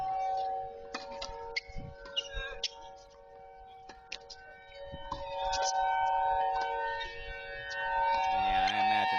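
An outdoor warning siren at a tennis venue in Tulsa holds steady, droning tones with faint ticking clicks, while people talk over it and it grows louder near the end.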